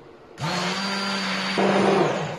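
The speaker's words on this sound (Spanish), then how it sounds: "Con la batidora manual o con lo que sea, con lo que tengamos, lo batimos todo." A hand blender whirs steadily at close range, churning coffee liqueur cream, its motor pitch shifting slightly partway through.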